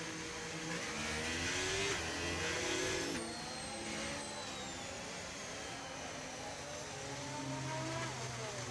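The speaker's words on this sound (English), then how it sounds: "There's a Ferrari coming" A Ferrari race car in a racing video game roars past at the British Grand Prix, its engine pitch sliding as it revs and passes over steady background engine drone.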